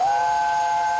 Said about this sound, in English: listen to this whistle